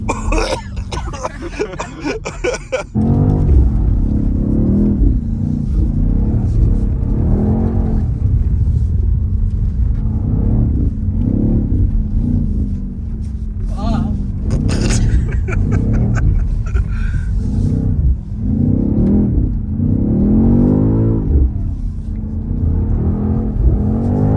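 BMW XM engine revving hard while the car drifts, a loud, close, continuous roar that repeatedly rises and falls in pitch with throttle changes, after a brief noisy start.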